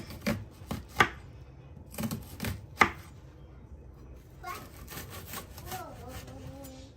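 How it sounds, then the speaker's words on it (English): A knife dices onions on a chopping board while ingredients are prepared for Nigerian peppered gizzard. Several sharp, close chopping strikes come in quick bursts, followed by quieter rubbing and scraping on the board. "Just dice everything up."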